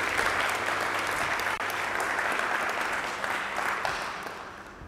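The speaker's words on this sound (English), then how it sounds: "So big round of applause for all the startups giving us a show" An audience at a startup demo day gives sustained, loud, close applause that holds evenly before slowly tapering at the end, with no talking over it.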